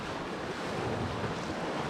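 Steady roar of sea waves at Utyos, Crimea, mixed with gusting wind buffeting the microphone, continuous and close, with no voices.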